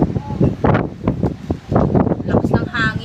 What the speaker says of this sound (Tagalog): lakas ng hangin dito sa amin ngayon